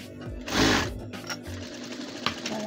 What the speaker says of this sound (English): So I'm just sewing on the strip first.